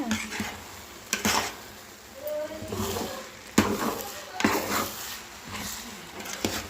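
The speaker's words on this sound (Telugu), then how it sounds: "ఒకసారి కలిపి వేసుకుందాం" Chicken pulao being stirred in a cooking pot, with scraping spoon strokes and soft sizzling under intermittent talk, sharp clatters of the utensil against the pot marking several stirs.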